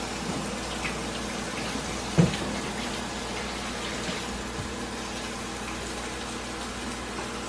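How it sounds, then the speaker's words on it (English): Tap water runs steadily as a hand is washed in a home kitchen while a steak cooks, a constant soft hiss and splash with one brief louder knock partway through. "I'm going to wash my hand"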